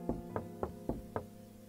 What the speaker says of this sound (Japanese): ノックされてる。